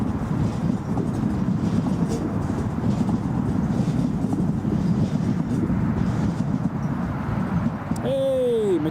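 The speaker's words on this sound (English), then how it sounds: "KLM 737-700 heading to Amsterdam Schiphol, departing runway 25." A KLM Boeing 737-700 departs the runway at Newcastle International Airport, heard as a steady, broad, distant roar throughout, with a rising whine near the end.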